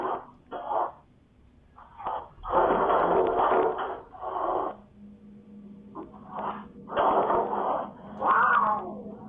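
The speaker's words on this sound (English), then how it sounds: "The cat violently hisses as though it's being attacked" A cat hisses violently and yowls as if under attack, several loud harsh bursts that come and go with short gaps over about nine seconds, with no voices.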